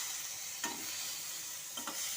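For an egg roast, fried onion and slit green chili are stirred into the pan over a continuous sizzle, with two soft spoon scrapes, close and fairly quiet.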